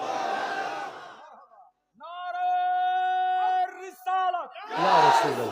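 A large crowd chants the Naraye Risalat slogan at a religious gathering in Bangladesh: loud roaring shouts open and close it, with a sustained, tonal group chant in the middle.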